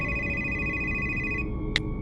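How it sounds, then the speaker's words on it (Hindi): A phone rings alone in a quiet room, a steady electronic tone that cuts off partway, followed by one brief high chirp. "तभी अचानक उसका फोन बजता है।"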